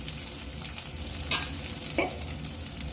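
Egg bhurji being stirred in a pan, a soft steady frying sizzle with a couple of brief scrapes of the spoon against the pan, no talk.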